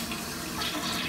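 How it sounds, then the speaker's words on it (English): A household toilet flushes with a steady broadband rush of water, close and fairly loud, continuing without a break and with no voices. "So I'm going to flush the toilet."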